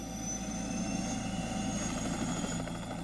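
Rescue helicopters fly overhead with a continuous dense rotor and engine drone that holds steady throughout, fairly loud and alone.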